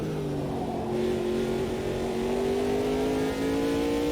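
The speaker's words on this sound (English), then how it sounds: "I think the Judd just compensates that by revving higher." A Judd engine in an LMP2 race car in Automobilista 2 revs high and climbs steadily in pitch, a loud, continuous near whine with no voices over it.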